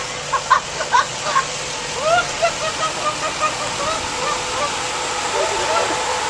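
Human voice imitating a chicken's clucking that comes out as goose-like honks, a series of short calls in a loose rhythm over a steady rushing background like flowing water.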